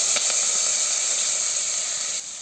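Sliced onion and two green chillies hit hot oil with popped mustard seeds for a drumstick and egg stir-fry, giving a steady, close, even sizzle with no talking.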